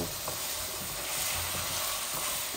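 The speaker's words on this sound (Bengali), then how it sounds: "এই সবজিগুলো একটু ভালো করে ভাজা।" Potatoes cut into long strips and frozen green tomatoes fry in a pan for a fish curry, giving a steady, close sizzle with faint stirring scrapes and no talk.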